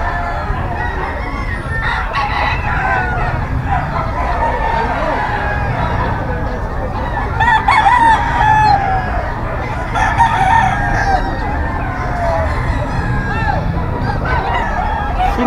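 Red Kelso gamefowl roosters crow repeatedly and cluck at close range amid a busy background of chatter and crowd noise.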